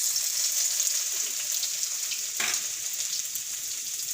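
Cumin, garlic and ginger sputter in hot oil, a close, steady bright sizzle with a brief crackling burst as an ingredient drops in partway through.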